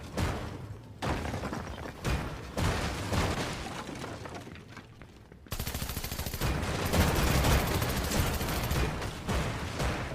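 Rapid video game gunfire from NPCs in Fortnite, with dense bursts of automatic shots that dip briefly and then return louder and more continuous in the second half, close and busy throughout.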